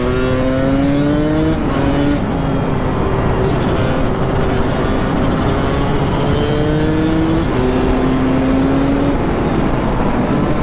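A Yamaha YZ250 supermoto engine drones continuously with wind roar on a mountain road, its pitch climbing through gears and dropping between shifts as the bike rides on.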